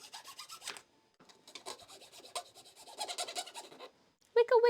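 Short rasping strokes of filing or sanding on a small sculpted piece, close and repeated in uneven bursts with brief pauses, ending with a voice.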